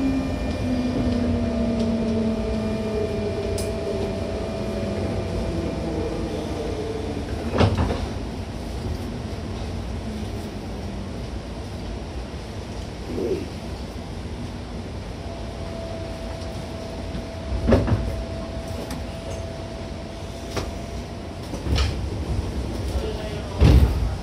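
A JR 201 series rapid train on the Yamatoji Line bound for Nara, heard from inside with a steady loud rolling rumble, rising and falling motor whine tones, and occasional sharp clunks over rail joints.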